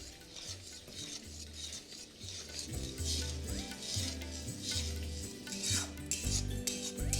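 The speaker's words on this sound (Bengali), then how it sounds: "টমেটোটাকে আপনাদের এইভাবেই জাস্ট কষিয়ে নিতে হবে" Stirring a tomato, ginger and green chili paste sautéing in a pan for vegetable khichdi: steady close scraping and clinking of a spoon against the pan over a faint sizzle, with a low repeating hum underneath.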